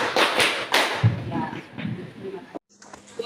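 Students in a classroom clap in a counting game, a burst of several quick sharp claps that thin out into softer, scattered taps, with a brief pause near the end.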